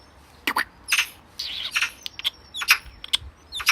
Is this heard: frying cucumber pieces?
no